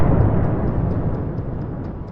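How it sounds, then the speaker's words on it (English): A Russian tank blows up after hitting a Ukrainian mine, heard as a dense, heavy rumbling roar that fills the whole stretch and fades only slightly, with no voices. "Let's watch that explosion from another angle."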